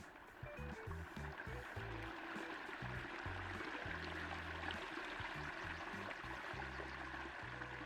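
A loud river in a video game soundscape gives a steady, broad rush of flowing water, constant and enveloping, with a low tonal musical pattern underneath.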